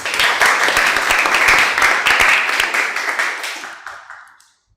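A classroom group applauds together, a dense burst of clapping that holds steady for a few seconds before thinning out and fading to silence.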